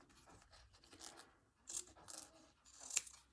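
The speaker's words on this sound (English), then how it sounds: "So let's cut a little square out" Scissors cut a small square from embroidery fabric, producing quiet, close snips and scratchy fabric sounds in uneven bursts, faint overall and without talking.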